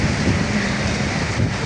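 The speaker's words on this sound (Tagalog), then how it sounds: "malakas ang hangin" Strong gusting wind blows steadily and loudly against the microphone in a Santa Cruz, Manila street during a passing storm, a broad continuous roar with no pauses.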